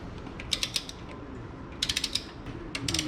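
Torque wrench tightening wheel lug nuts in a cross pattern, quick ratcheting clicks in two short bursts with a brief pause between, close up and without talk.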